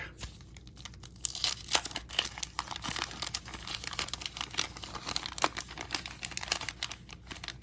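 Tearing open a 1986 Topps baseball wax pack, close crinkling and ripping of the wax paper with sharp irregular tears and rustling, no talk.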